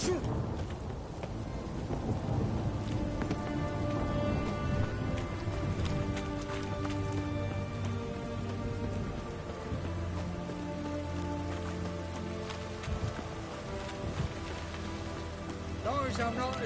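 Steady rain patters across a surface beneath a layered musical score, with low rumbles, continuous and fairly loud throughout, in the video game The Witcher 3 on PS5.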